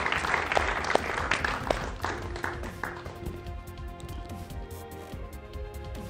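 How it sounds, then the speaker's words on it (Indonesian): An audience at a comedy showcase claps in a dense burst that slowly thins out over several seconds. A few sharp individual claps stand out near the start, with faint murmuring underneath. "Kita berikan tepuk tangan."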